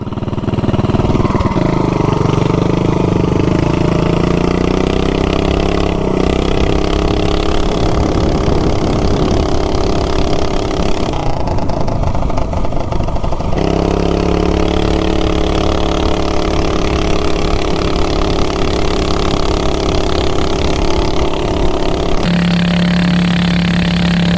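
A 420cc minibike engine runs steadily and loud for the whole stretch, holding a throaty mid-pitched drone near the listener, with a few brief changes in tone but no talking.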